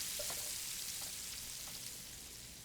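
Black-eyed peas cooking with andouille sausage and collard greens give off a faint, steady sizzle with a soft bubbling hiss throughout. No one speaks.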